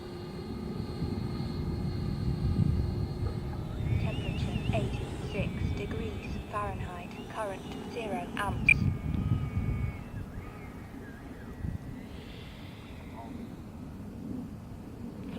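An FMS Hawk 80mm RC jet comes in to land, its steady turbine rush under wind noise throughout, with a voice speaking partway through.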